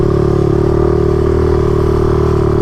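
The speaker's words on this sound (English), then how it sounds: "This engine revs so freely, it just puts power everywhere" The engine of a garage-built race motorcycle runs hard at a loud, sustained, even drone, its buzzing tone holding nearly steady throughout with no voices.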